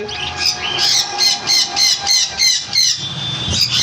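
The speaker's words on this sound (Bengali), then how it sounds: "এখানে আছে ব্লু কনুর ব্লু কনুর" Harsh, repeated blue conure parrot squawks in a steady rhythm, about eight bursts in a row, loud and close, with a faint engine hum underneath.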